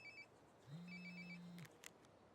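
A flip phone ringtone trills in short electronic bursts in the video game Life is Strange: Before the Storm, with a low steady buzz underneath and a couple of faint clicks near the end; no one speaks.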